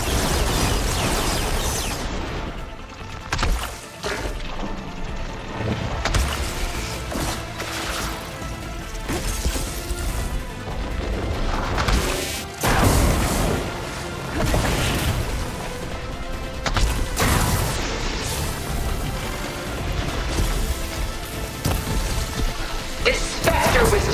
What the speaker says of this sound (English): Fire a barrage!